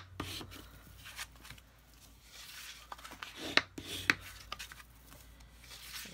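The edge of a folded paper Christmas card is burnished, giving quiet, intermittent rubbing and scraping strokes with a few sharper taps, close and faint with no speech.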